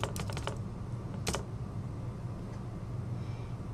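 Someone types on a computer keyboard while working in Photoshop, several quick key taps clustered at the start and a short burst near the middle, fairly faint against a steady low room hum.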